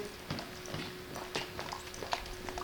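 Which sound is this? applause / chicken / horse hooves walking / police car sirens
horse hooves walking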